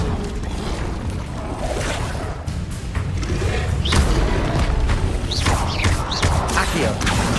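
Fire spell effects from Hogwarts Legacy roar as a dense, continuous wash of magical noise, with whooshing swells and occasional thuds throughout, loud and steady without pauses.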